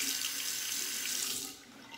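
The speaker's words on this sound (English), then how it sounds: "Warm the razor under hot water" Hot water runs from a tap over a safety razor in a sink, a steady close hiss of flowing water that drops off and softens partway through as the razor moves under the stream.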